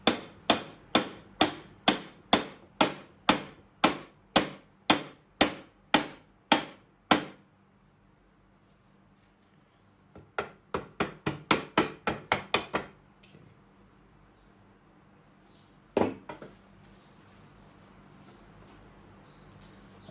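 Rapid, evenly spaced strikes of a plastic hammer on a wood lathe part ring out in a steady burst, then a second quicker run of blows, followed by a single lone hit after a pause.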